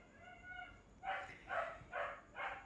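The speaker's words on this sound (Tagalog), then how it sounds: "Tahol na tahol ang ating aso at gutom na yata." A hungry pet dog gives four short, evenly spaced barks or yips at moderate distance, following a faint steady tonal hum at the start.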